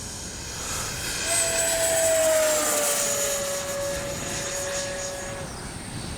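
A Freewing 70mm Yak 130 radio-controlled ducted-fan jet flies past with a steady rushing roar and a high whine that slowly drops in pitch, swelling louder mid-pass and then easing.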